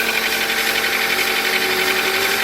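Acura RSX engine idling while antifreeze cycles through the cooling system after a failed thermostat and water pump check, a steady, even mechanical whir with a faint rhythmic ticking, close and constant, with no talking.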